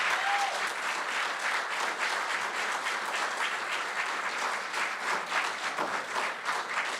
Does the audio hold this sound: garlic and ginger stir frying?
no